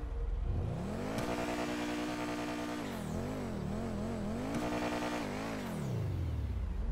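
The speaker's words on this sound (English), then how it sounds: "So let's rev the engine." A Pegassi Osiris sports car engine in GTA 5 Online revs up and down repeatedly, its pitch climbing and falling in a synthetic-sounding whine with a faint whir behind it.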